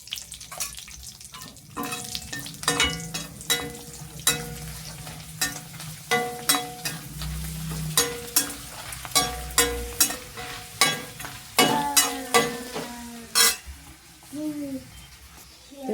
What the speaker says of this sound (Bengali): লাল লাল করে খুব ভালো করে ভেজে নিচ্ছি